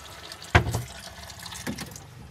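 Water drains down a small camper van sink into a gray water tank, heard as a brief splash followed by soft trickling and gurgling, close and fairly quiet with no talking.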